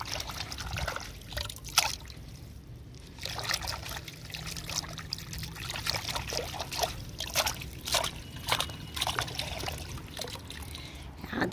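Tap water runs and trickles steadily over fresh ginger rhizomes dug from a home garden as they are rinsed by hand, with small splashes and sloshes throughout and no talk.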